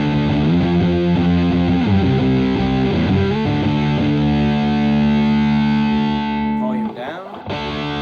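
Stratocaster electric guitar on its neck pickup, played through a DS2 distortion pedal, sustains thick distorted chords and notes loudly for several seconds before cutting off with a brief scratchy break near the end.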